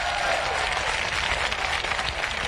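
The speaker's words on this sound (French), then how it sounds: "Un public exceptionnel ce soir qui va s'applaudir, s'acclamer, allez-y" A French TV variety show's studio audience applauds and cheers, loud and steady throughout, with dense clapping and crowd noise close by.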